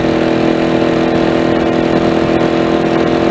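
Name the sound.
motorcycle engine running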